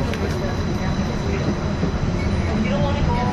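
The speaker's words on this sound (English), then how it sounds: "welcome aboard the Disneyland monorail" Disneyland monorail running, a loud, steady rumble and rolling clatter heard from aboard the train, with voices talking over it.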